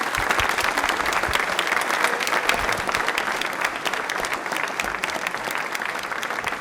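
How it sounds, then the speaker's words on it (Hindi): A studio audience at a televised general-knowledge quiz show claps loudly and continuously for a contestant, a thick, sustained wash of many hands with no speech on top. "तालियां इनकी प्लीज जोरदार वाली हो जाए"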